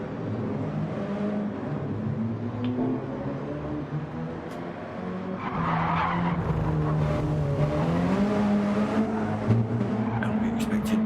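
Race cars circulating on the Brands Hatch Indy Circuit: steady engine drone with shifting pitch and occasional tyre noise, heard at moderate distance under a continuous commentary voice.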